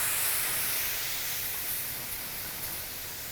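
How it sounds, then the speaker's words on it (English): Port wine with shallots, parsley and fresh thyme reduces in a sauté pan, giving a steady, fairly close sizzling hiss that slowly eases over a few seconds, with no voices. "And you can see the port reduces down."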